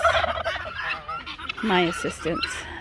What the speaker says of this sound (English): So the geese are over here, chickens and ducks.